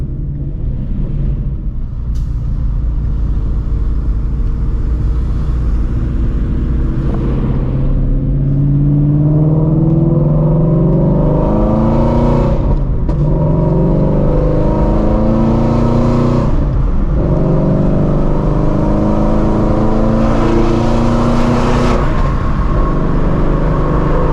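Shelby GT350 pulling hard from the driver's seat, a loud engine roar climbing in pitch through repeated rising sweeps with brief dips at each gear shift, steady road rumble underneath.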